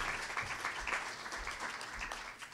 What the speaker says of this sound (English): And give our sponsors a round of applause.